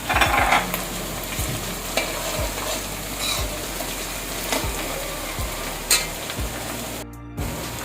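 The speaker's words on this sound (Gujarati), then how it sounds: "આ સફેદ તલ છે, તલ આમાં નાખી દેવાના છે" Hot tempering oil sizzling and crackling as white sesame seeds go in for a desi-style fried rotlo, with steady frying hiss, several sharp spatula scrapes and stirs, and a brief burst of spattering near the end.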